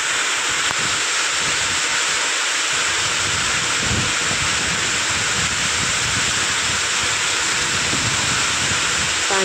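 Steady, dense roar of heavy rain pouring down without pause, a constant broad wash of noise throughout.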